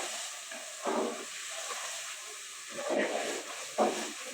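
Spiced fish, seasoned with coriander powder, turmeric and garam masala, sizzles in a pan with a steady soft hiss. A few louder bursts of spatter rise from it, and the whole sound stays fairly quiet.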